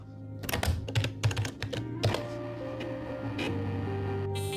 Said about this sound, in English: The keyboard, the keyboard, the fat keyboard